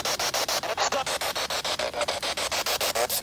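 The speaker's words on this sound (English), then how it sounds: "this in my right hand that you can hear is a spirit box" A ghost-hunting spirit box sweeps through radio static in fast regular pulses of harsh hiss, about eight per second, steady and fairly loud throughout with no voices.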